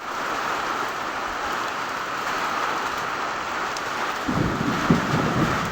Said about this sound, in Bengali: বাতাসের চেয়ে বিদ্যুৎ চমকাচ্ছে বেশি আমাদের এখানে, আর বাতাস হচ্ছে অনেক, বৃষ্টির চেয়ে অনেক বেশি।